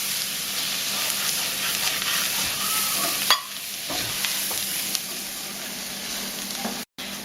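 Gravy and butter sizzle and fry in a pan as a spoon stirs them steadily, giving a close, continuous hiss with faint scraping that pauses briefly and cuts out near the end.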